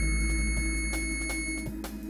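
A 555 timer astable circuit with a small timing capacitor emits a steady, buzzy electronic tone from a small speaker, continuous and close, with a rough pulsing texture and a few faint clicks.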